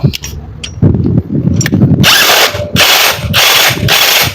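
A cordless battery-powered impact wrench spins up at about 3000 rpm, its loud motor whine and rattling hammering running steadily for several seconds after a few brief handling clicks.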